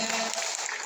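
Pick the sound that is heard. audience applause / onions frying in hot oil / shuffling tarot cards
audience applause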